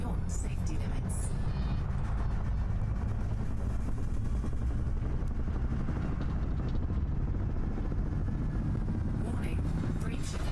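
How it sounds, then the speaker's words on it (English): A spaceship's frame shift drive overcharges in a video game, producing a loud, continuous rumbling roar that holds steady throughout with a few brief bright flares, all under a synthetic warning voice. "Warning, frameshift drive operating beyond safety limits."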